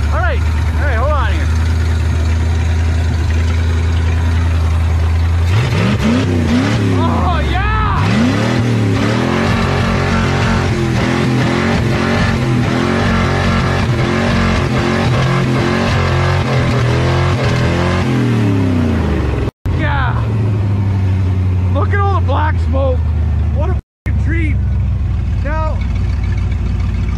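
An old Ford F1 truck being fired up: a starter cranking, then the engine catching and running in a rough, rising and settling roar for several seconds before dropping back, with brief gaps and scattered voices around it.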